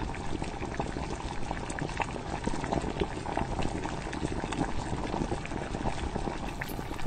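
Roast duck noodle soup with rice noodles rolls at a boil in a pot, a thick continuous bubbling and churning of liquid heard up close and steady throughout, with no talking.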